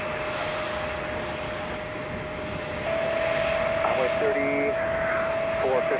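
An Airbus A319 jet rumbles steadily at Chicago O'Hare airport, a broad continuous engine roar with a sustained tonal whine that grows louder midway, while a voice talks faintly underneath.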